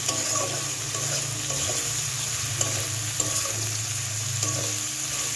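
Food frying in a very hot wok, heated until glowing red, with a steady, close sizzle and occasional stirring scrapes and no talking.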